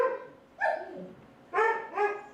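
Rescue dogs from Labrador bark in a shelter, three loud, close, yelping barks in quick succession with no talking.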